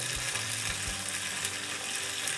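Steady, close sizzling of food frying in a pan for a rice with cod and potatoes dish, a continuous crackling hiss with a few soft knocks of stirring underneath.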